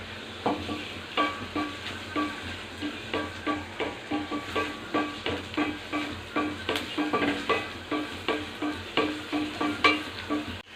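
Dried red chillies fry in a pan with browned onions for mint chutney. The sizzle is steady and close, and a spatula scrapes and stirs in a regular rhythm throughout.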